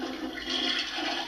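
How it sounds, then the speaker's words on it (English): A Barbie Dream House toy toilet's button-activated flush: a steady rushing whoosh of water-like hiss lasting just over a second, close and fairly loud, with no voices. "The toilet has a button so you can press it and flush."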